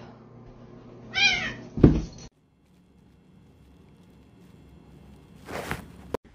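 A house cat meows twice close by, a short rising cry followed by a sharper one, then near-silence with faint rustling before a final brief meow-like burst at the end.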